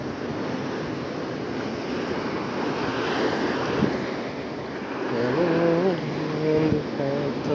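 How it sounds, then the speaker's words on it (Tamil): Strong wind roars over crashing sea waves at Preethipura Beach, Wattala, Sri Lanka, in a steady, loud wash, with a faint voice briefly underneath near the end. "இவ்வளோ காற்று கடலாக இருக்குது."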